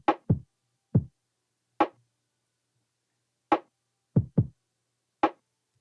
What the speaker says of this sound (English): I took my kick and snare sound, which basically just sounds like this